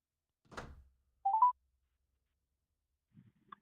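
An unanswered phone call: a soft thump, then a short burst of dialing tones, followed by a long silence and faint brief sounds near the end, with no voices.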